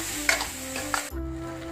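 Tomatoes cooking in a pan for channa masala, a close, even sizzle with two sharp scrapes of a utensil before it dips and carries on more quietly.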